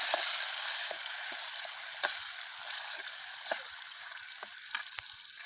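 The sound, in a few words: blended native tomatoes added to the pot and stirred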